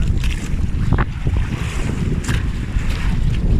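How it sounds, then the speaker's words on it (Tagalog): Big sea waves surge and wash in a continuous rough roar, with heavy wind buffeting the microphone throughout; no one speaks. "Laki ng alon oh."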